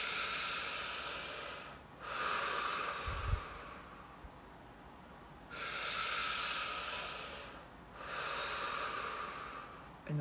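Slow, deep breaths taken through the mouth during a gentle body-relaxation exercise, four long airy rushes close to the mic, each swelling and fading, separated by brief quiet gaps.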